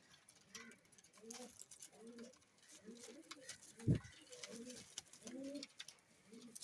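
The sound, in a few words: Sialkoti pigeons cooing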